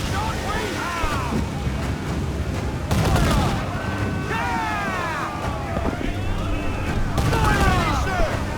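Ship cannons fire in an Assassin's Creed naval battle, with several loud booming volleys over wind, waves and shouting crew voices.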